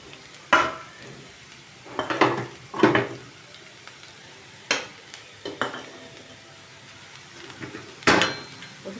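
Onion pieces frying in oil in a pan for a ridge gourd fry, with several sharp scraping stir strokes and metal spoon clinks over a soft continuous sizzle.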